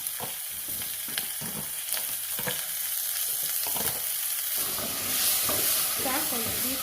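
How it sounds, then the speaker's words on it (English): Minced meat hitting a pan of cooked garlic and onion, a busy crackling sizzle with scraping stir strokes, close and continuous, swelling louder toward the end. "go in with the minced meat"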